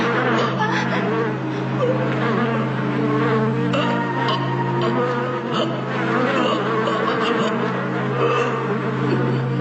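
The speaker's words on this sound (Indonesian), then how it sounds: "lebah-lebah ini akan segera menyerang siapa saja orang yang berada di dekatku" Animated swarm of bees buzzing in a dense, steady drone that stays loud and close throughout, with faint scattered background sounds.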